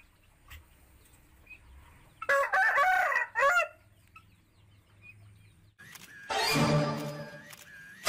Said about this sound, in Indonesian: ini kesukaan saya, ayam jago kawan